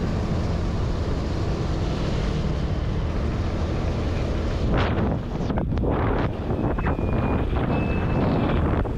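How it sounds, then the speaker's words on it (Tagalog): Strong afternoon wind buffets the microphone of a moving motorbike in Batangas, a continuous loud roaring rush with several sharper gusts and crackles toward the end. "Medyo lumalakas na rin yung hangin pala dito kapag hapon na."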